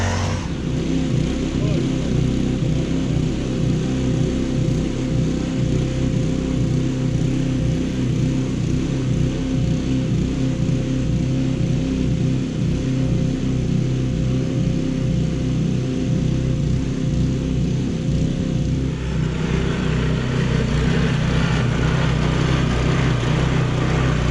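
A landscape curbing machine runs on a steep slope, laying a smooth colored concrete curb, with a steady, loud motor drone that holds throughout and thickens toward the end.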